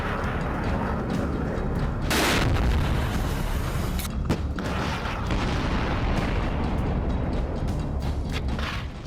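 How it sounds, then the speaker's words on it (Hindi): Artillery fire and explosions in wartime Kharkiv rumble as deep booms over a constant background roar, with one heavy blast standing out near the middle and sharper cracks scattered after it. "यकीन ना हो तो खार्किव में बरसते बारूद को देखिए।"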